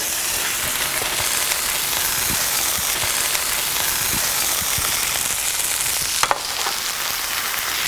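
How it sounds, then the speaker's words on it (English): Chicken pressed under a brick sizzles loudly and steadily in a hot pan, a dense crackling hiss with scattered sharp pops and no talking. "this has just been sizzling so nicely the entire time"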